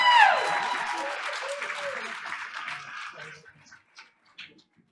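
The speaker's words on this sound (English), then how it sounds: "give Tyree's mother, Tashay McQueen, a round of applause for doing such a great job raising her son." An audience at a Board of Education meeting applauds, loud clapping at first that thins and tapers off over a few seconds, with a few voices and cheers mixed in.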